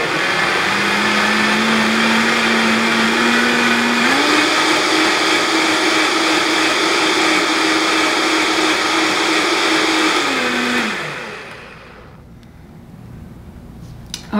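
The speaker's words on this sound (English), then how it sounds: "I'm going to just blend this until it's completely pureed" A blender purees about five cups of zucchini soup with a loud, steady whirring drone whose pitch rises partway through and drops as the motor stops, leaving near quiet.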